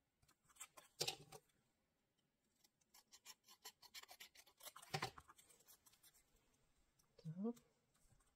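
Scissors cut through a piece of thick dyed paper in a few short rasping bursts, close and fairly quiet, with rustling between and a brief voice near the end.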